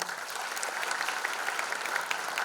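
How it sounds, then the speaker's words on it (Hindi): Loud, dense applause from a concert crowd at an evening show honouring the musicians; continuous clapping sustained at full strength throughout. "उनके लिए एक बार और जोरदार तालियां"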